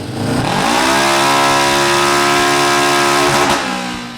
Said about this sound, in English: we're gonna go ahead and make some passes on the dyno